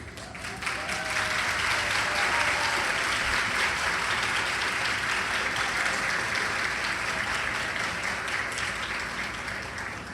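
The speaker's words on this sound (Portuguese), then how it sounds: "olha quem chegou, palmas!" An audience claps for an arriving guest at a legal discussion event. Broad, continuous applause swells in after a moment, stays full and even for several seconds, then tapers slightly.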